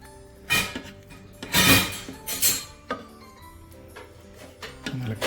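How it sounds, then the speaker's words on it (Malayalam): Cooked Kerala-style beef pulao is stirred in a pot, with scattered metallic clinks and scrapes of a spoon against the vessel in short bursts, close by. "നമുക്ക് ഇളക്കി കൊടുക്കാം."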